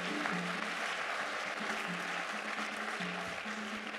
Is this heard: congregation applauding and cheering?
yes